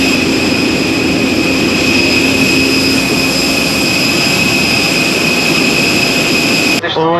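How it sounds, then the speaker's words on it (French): Steady, loud jet engine roar inside an airliner cabin, a broad continuous rumble with a high whine, unbroken throughout and ending with a brief break at the close. "Enfin dans l'avion"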